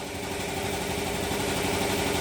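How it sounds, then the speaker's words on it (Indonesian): An air compressor in a workshop runs continuously, producing a steady mechanical hum and rattle with no pauses. "tukang kompresor bunyi terus,"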